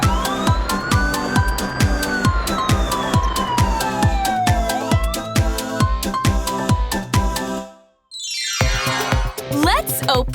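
A wailing siren sweeps up and down over a steady beat of toy music with electronic tones, then cuts out briefly before another siren-like whoop starts.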